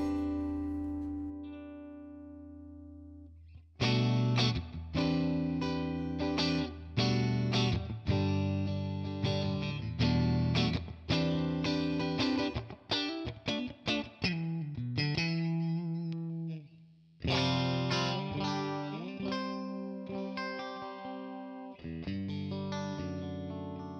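Electric guitar played through a Tonex ONE boutique amp tone model with a touch of reverb, starting with soft sustained notes, then loud distorted chords and riffs ringing on in a steady rhythm, with brief pauses between phrases.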